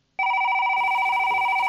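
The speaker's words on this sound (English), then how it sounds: "Mama Llama hears the phone. Ring, ring, ring, ring." A telephone rings in an animated children's story, one loud continuous electronic trill that starts abruptly and holds steady without pause.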